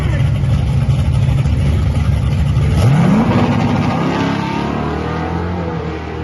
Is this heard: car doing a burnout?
yes